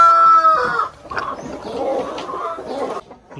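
A Giant rooster crows near and loud over the first half-second, followed by steady clucking and calls from a Rhode Island cross flock that continue throughout.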